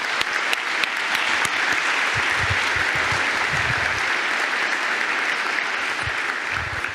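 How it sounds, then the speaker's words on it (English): A large audience applauding at the closing ceremony of the UIST 2018 conference, dense sustained clapping filling the room steadily for the whole stretch, with no speaking over it. "Let's give them a round of applause."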